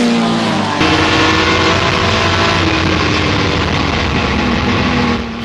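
Ex-Ecurie Nationale Belge Lister racing car engine roaring loud and close, a sustained dense note held at high revs with only slight shifts in pitch, no voices.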